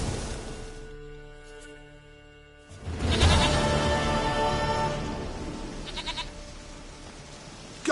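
A goat bleats in a video game, a few short wavering cries rising over a quiet ambient bed after a calm opening, fairly close and clear.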